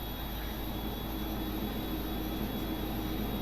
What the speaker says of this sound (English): I think GE90s are the best jet engines ever made in the entire world.